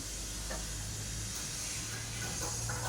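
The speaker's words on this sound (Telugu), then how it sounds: "ఒక పది నిమిషాల పాటు ఇలానే ఫ్రై చేసుకోవాలి కలర్ వచ్చేంతవరకు" French fries fry in oil over a low flame, giving a steady, soft sizzling hiss that carries on evenly with no voices over it.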